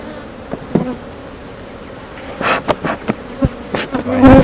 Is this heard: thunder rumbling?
no